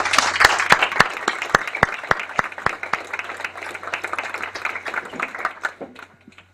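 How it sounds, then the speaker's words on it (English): Audience applause for the committee at the 2023 Millville Thunderbolt Club induction ceremony, steady clapping from a crowd that holds for several seconds with a few sharp near claps, then thins out toward the end. "I'd like to have a big round of applause for our committee."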